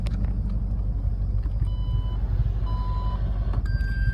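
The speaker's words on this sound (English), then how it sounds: "you press and hold this button here. The car will chime, letting you know that it's saved in the memory system" Several short electronic chimes ring out in a 2016 Porsche Panamera GTS as the tailgate height is saved to memory, spaced tones over a steady low rumble with no talking.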